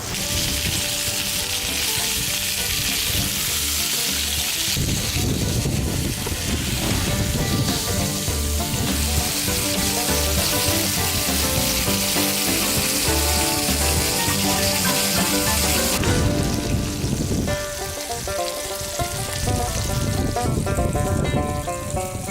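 Fish fillets, flatfish, laid skin side down in hot oil sizzle and crackle steadily and loudly for the whole stretch, with a few brief dips and clatters of the pan.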